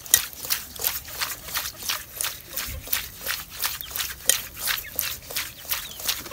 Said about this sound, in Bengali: মাছ কোটা শেষ, এখন আমি ধুয়ে নেই।